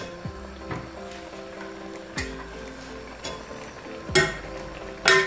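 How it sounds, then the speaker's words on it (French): Biryani ingredients stirred in a cooking pot, with close, irregular scrapes and knocks of a utensil against the pot over a low steady background. A few sharper clatters come near the end, and no one talks. "Donc tu mélanges."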